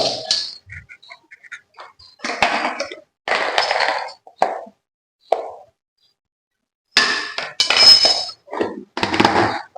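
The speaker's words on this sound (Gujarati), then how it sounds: "સારી રીતે તેને મિક્સ કરી લેશું।" Ingredients get mixed in a kitchen pot with a run of soft plops, scrapes and clinks of the spoon, coming in bursts separated by pauses, close and fairly loud.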